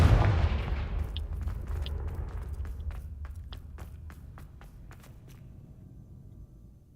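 A Confringo blasting spell explodes in Hogwarts Legacy, booming loudly and then rumbling away, with a scatter of sharp debris crackles and clicks as it fades.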